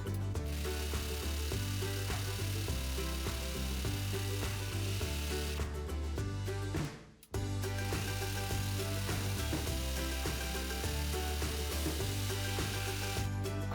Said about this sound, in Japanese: 今度はこの両脇のカーブの部分にロックミシンをかけます